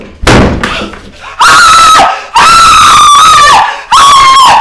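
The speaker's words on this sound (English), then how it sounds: "Why are you screaming like that?" A woman's loud, piercing screams of fright come in three long sustained bursts separated by short gaps, very close and intense, with a sharp thud or crash at the start, in a Nigerian film drama scene.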